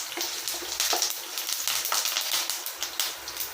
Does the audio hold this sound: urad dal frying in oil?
yes